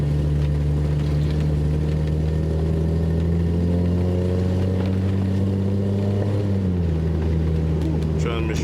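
A 1989 Mercedes 190E fitted with a paddle shifter pulls away in first gear, its engine humming steadily from inside the cabin with a low, even drone that drops in pitch near the end as the transmission shifts.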